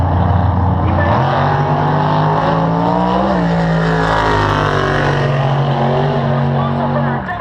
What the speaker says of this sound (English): That is a big block Ford powered Mustang.